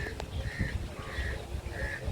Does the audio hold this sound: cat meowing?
no